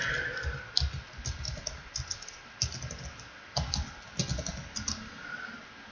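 Someone types a password on a computer keyboard at a desk, with a steady patter of key clicks, close and clear, slowing slightly in spots but running for several seconds without any talking.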